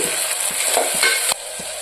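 Onions and chopped green chillies fry in a pan for a Rayalaseema mutton curry, giving a steady near broadband sizzle with soft regular stirring taps and a brief louder scrape near the end.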